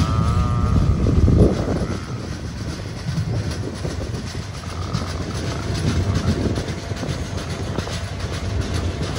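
The Kondaveedu Express, train no. 17212 from Yeshwanthpur to Machilipatnam, runs near Dharmavaram junction with a steady loud rumble and rattling wheel clatter, heard continuously from on board with no talk.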